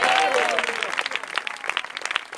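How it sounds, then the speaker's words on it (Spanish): Church congregation applause at a youth praise night, clapping beneath a brief voice at first, then thinning into distinct, scattered claps. "Alguien puede aplaudirle al Rey esta noche."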